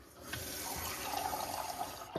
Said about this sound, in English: I just like to turn it as I'm pouring the water out